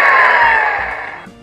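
Toy fire truck siren from a Paw Patrol kids' tablet, a single gliding electronic wail that slowly descends and fades over about a second, close and clear with no talking.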